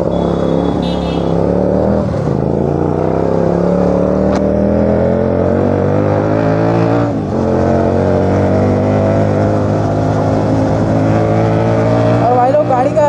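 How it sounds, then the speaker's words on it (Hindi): A vehicle engine roars steadily during a fast, aggressive ride through city traffic with drag racing and close calls, loud and continuous throughout with shifting revs and occasional dips, with no talk over it. "और भाई लोग गाड़ी का साउंड कैसे आ रहा है बताओ एक बार जरा"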